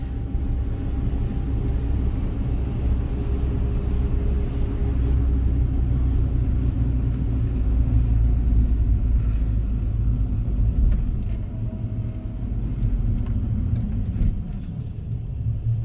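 A Honda D16Y8 engine fitted with a new DNA Motoring header idles steadily, a loud, continuous low rumble that holds an even level throughout with no voices over it.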